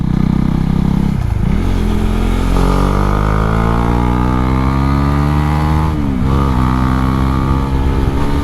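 A Husqvarna Svartpilen 401 motorcycle on the road, its single-cylinder engine loud and close, dipping and rising in pitch as it drops gears and revs back up, with steady wind rush throughout.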